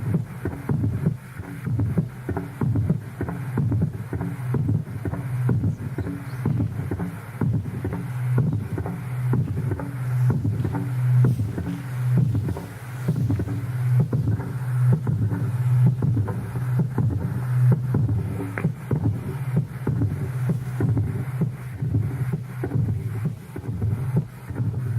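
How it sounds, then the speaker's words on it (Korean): A large engine-driven machine runs at a borehole site, a steady low droning rumble that holds evenly for the whole stretch with a gusty, wind-like hiss over it. "큰 원동기 이 기계 엔진 소리가"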